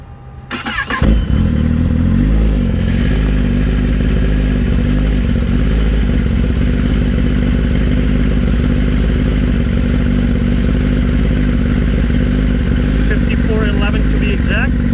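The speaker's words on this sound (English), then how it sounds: "Engine sounds healthy, runs as it should, shifts as it should." A 2021 Kawasaki Ninja ZX-10R KRT ABS Edition sport motorcycle fires up after a brief quiet start, then settles into a loud, steady idle with a continuous throbbing rumble lasting to the end.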